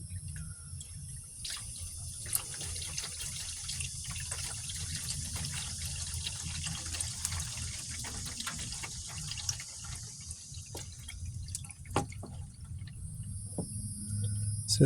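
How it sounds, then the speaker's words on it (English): Engine oil drains from the plug hole of a 2016 Silverado WT with a 5.3L V8, a steady close trickle and splash of liquid that continues without a break, with a few small clicks along the way. "now that we got our oil draining out"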